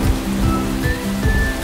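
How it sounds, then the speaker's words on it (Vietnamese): Heavy rain pours down in a steady, dense hiss, with low rumbling swells rising and falling beneath the constant patter, no talking. "Mưa như thế này có khi tối mới tạnh được."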